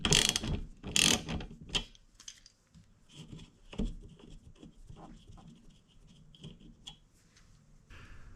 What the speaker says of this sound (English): Simply take off the cover and then unbolt the wiper using a 10mm socket.